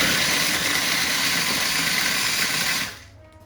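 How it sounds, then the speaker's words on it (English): Fifteen Oreo cookies grinding in a food processor, a loud steady motor whir with gritty churning that runs for about three seconds and then cuts off into quiet. "take 15 Oreos and put them in the food processor"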